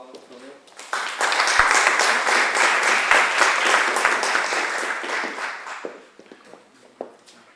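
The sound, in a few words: audience applause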